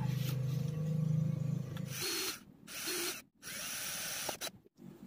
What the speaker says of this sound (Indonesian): Bor pipanya